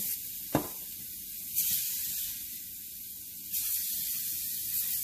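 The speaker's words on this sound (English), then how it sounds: "Spray the pan again." Short hissing bursts of cooking spray from a can onto a pan while fish cooks, two or three sprays with quiet pauses between, after a single faint knock.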